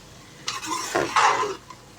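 Mixed potato, peas and carrot being stirred in a pan, a few close scraping and shuffling strokes with a light sizzle, short bursts without talk.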